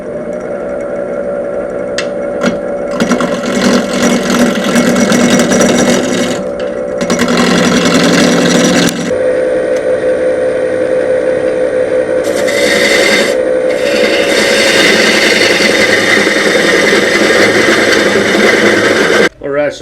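A wood lathe spins a glued-up block being turned into a dresser leg, with loud rasping and scraping bursts as the tool cuts, broken by quieter stretches of motor hum.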